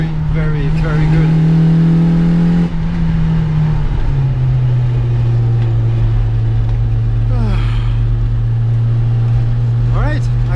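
A 1991 Rover Mini Cooper drives steadily, its engine humming loud and close with shifting tone as it changes gear, while someone talks over it.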